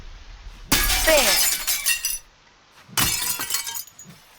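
Car glass shattering in the Teardown video game, two loud separate bursts of breaking and tinkling glass with a short pause between them.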